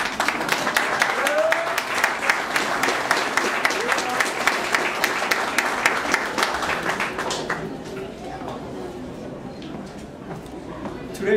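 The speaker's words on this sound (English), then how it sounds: "I would like another applause for my mother." A crowd applauding steadily and loudly for several seconds, then the clapping dies down into quieter scattered claps and room murmur.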